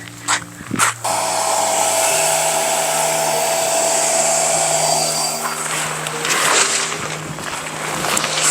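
Electric air pump inflating a Kudi Air Tent 5.8 ultralight picnic tent, a steady loud motor whine and rush of air running continuously after a brief start, close by with no talk.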